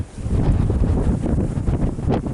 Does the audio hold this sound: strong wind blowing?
yes